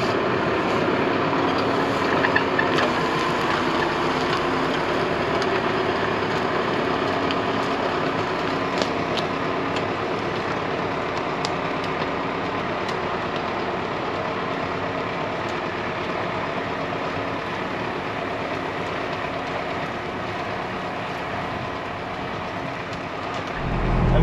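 A Valtra N123 tractor plows an old field, its engine droning steadily and loud throughout with a constant mechanical rumble and hum, no speech over it.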